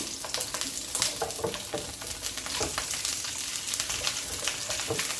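Chopped onion sizzles in a little oil in a pan, a steady close crackle with fine popping bursts running throughout and no voices.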